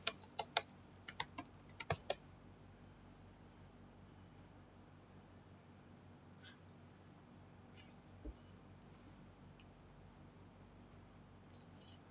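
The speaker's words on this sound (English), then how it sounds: "Yes, I type my password." Password typed on a computer keyboard: a quick burst of close, light key clicks, then mostly quiet with a few scattered taps later on.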